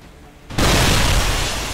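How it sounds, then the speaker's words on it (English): Fireworks sound effect played during a tabletop role-playing session: an abrupt loud blast that holds as a sustained roaring, crackling burst for over a second. "You hear fireworks."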